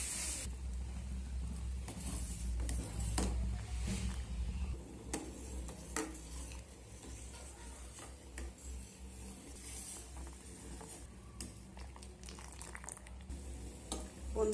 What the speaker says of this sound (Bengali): এখানে জুসটা ফুটতে শুরু করেছে।